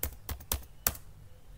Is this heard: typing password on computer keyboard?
yes